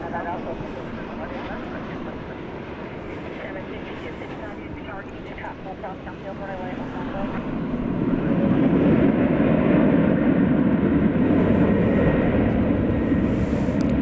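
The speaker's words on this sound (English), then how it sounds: "Here goes American Flight 364 to San Jose, California. The 737-800." An American Airlines Boeing 737-800 departs at night at DFW Airport, its jet engines swelling from a low rumble into a loud, sustained takeoff roar partway through, with a voice talking early on.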